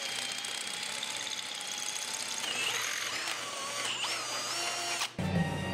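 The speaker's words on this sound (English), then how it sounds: "Now we'll go ahead and drill some holes for our pins." A power drill fitted with a 7/16 bit bores holes for snow plow pins, giving a steady whine close by that holds for about five seconds and then stops, with no one talking.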